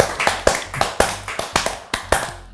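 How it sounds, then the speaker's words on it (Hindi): Several people in a studio audience clap in short, sharp bursts, about six distinct rounds of applause close together, fairly loud with no talking. "ताली बजा लो खुद के लिए"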